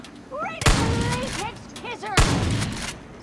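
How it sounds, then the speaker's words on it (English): Two loud, close shotgun blasts from a video game weapon, spaced about a second and a half apart, each a sharp boom with a short decaying tail, while a voice talks between them. "The shotgun works!"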